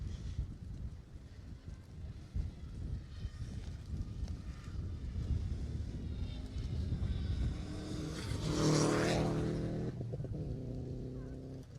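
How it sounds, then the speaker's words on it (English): Rally car 47, crewed by Dave Smith and Drew Jones on the Jersey Rally 2018 stage, approaches under outdoor wind noise, its engine swelling to a loud nearby peak before receding. "Car 47 looking very comfortable coming through here"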